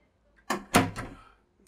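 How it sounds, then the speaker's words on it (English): A glass shower door in the head compartment of a Boston Whaler boat at a boat show bangs shut in two or three quick, close knocks, followed by a faint rattle that fades within about a second. "shower's got a glass door to close it off."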